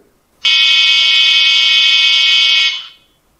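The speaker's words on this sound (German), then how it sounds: "dann noch eine Hupe," A single loud, buzzy horn blast from a Märklin H0 model track tamping machine sounds for a couple of seconds, bright and harsh in tone, then cuts off cleanly with nothing else around it.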